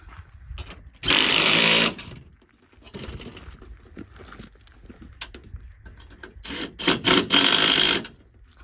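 A power tool tightens bolts on a ground-mounted solar panel frame in two loud, close bursts of whirring impact, one near the start and another longer one near the end, with quieter clatter between them.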